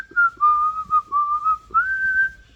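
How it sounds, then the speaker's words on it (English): A person whistles a tune alone, clear sustained notes gliding between pitches in a simple melodic phrase, close and bright. "I got up and I was just whistling it"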